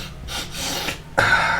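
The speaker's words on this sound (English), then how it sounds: "All right, that's a sniffle" A quick nasal sniffle, two short sharp inhalations through the nose, close to the microphone, followed by a louder breathy rush of air at the end.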